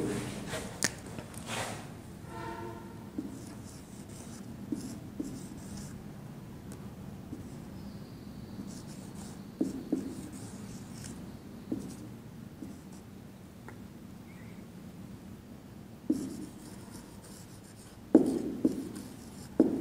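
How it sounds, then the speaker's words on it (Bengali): A teacher writes on a classroom board: faint scratchy strokes and occasional soft taps recur over a quiet, steady room background, with no talking. "তো আমি একটু বোর্ডে লিখি।"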